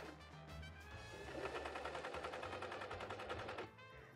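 A sewing machine stitches lining fabric for a medieval kirtle in a fast, even rattling run that speeds up and then stops abruptly, close and steady with no talking.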